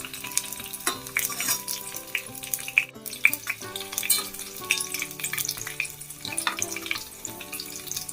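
Ingredients frying lightly in coconut oil in a pan, a soft crackling sizzle with intermittent clinks and stirring, fairly close, with a sharp short break midway and no talk.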